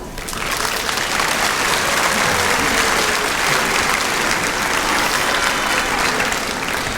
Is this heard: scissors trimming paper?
no